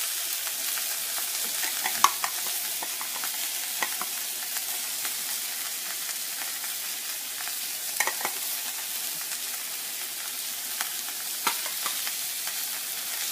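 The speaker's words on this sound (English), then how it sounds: "You want to sear it in real good." Spice-coated meat sears in a pan with a constant bright sizzle, punctuated by occasional scrapes and clicks from stirring, steady and fairly close for the whole stretch.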